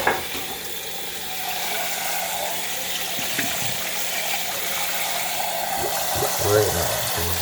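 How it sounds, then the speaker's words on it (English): Equipment being rinsed under a running tap while making cannamilk at home: a steady, hissing rush of water pours throughout, with faint clunks and a brief murmur of voice near the end. "you rinse your stuff off."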